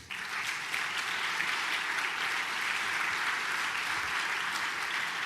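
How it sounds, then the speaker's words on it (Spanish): Steady, dense applause from a church congregation at a Spanish-language service, holding an even level throughout without a break. "Denle un aplauso a Jesús."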